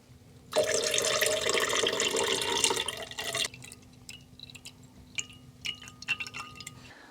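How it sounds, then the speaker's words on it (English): Buttermilk from homemade butter poured into a glass, a steady loud liquid stream for about three seconds, then scattered drips and small clinks in a quiet room. "I'm just going to get a glass to pour the buttermilk into"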